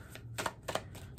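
Tarot and oracle cards being shuffled by hand: a few quick, soft riffling bursts in an irregular rhythm, close but quiet, with no talking.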